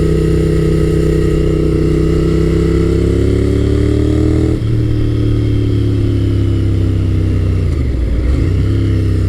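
A 1990s Honda sportbike motorcycle accelerates hard, its engine a loud, close, continuous roar whose pitch climbs steadily, drops at a gear change, then rises again before easing off.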